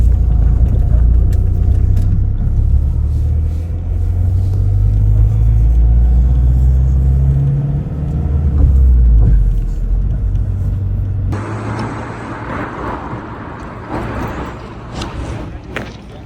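A bus travels the road out of Tbilisi toward the Georgia–Turkey border, its engine and tyres giving a steady loud low rumble that thins and brightens with more road hiss near the end, with no voices.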